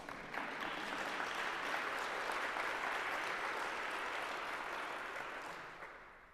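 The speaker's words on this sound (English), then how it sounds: "Let us applaud the Lord." A church congregation applauds in praise of the Lord, a steady, dense wash of many hands clapping that holds for several seconds before tapering off at the end, with no talk over it.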